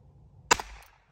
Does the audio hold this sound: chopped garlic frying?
no